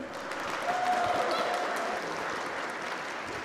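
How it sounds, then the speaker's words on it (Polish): An audience claps steadily in applause at a religious conference, a dense, even wash of handclaps lasting the whole moment without letting up. "Kolejny teolog, zabijmy brawo."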